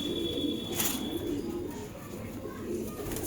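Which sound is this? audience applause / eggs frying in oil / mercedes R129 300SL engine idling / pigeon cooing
pigeon cooing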